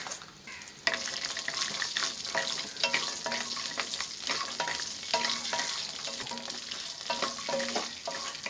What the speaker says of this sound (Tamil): முந்திரி வறுக்க நெய் ஊற்றிக்கலாம்.